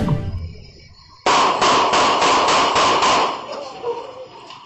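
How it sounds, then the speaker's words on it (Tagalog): A rapid string of about seven sharp gunshots bursts out on CCTV footage from Barangay Graceville, San Jose del Monte, Bulacan, loud and evenly spaced, then fades into quieter background noise. "Binulabog ng sunod-sunod na putok ng baril ang bahaging ito ng Barangay Graceville"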